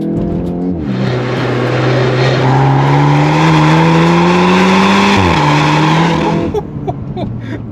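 A VW Golf 8R with DSG gearbox and Akrapovic exhaust accelerating hard close to the tailpipes, its engine note climbing steadily through a long pull, dipping at a shift, then climbing again before easing off, loud with no talk.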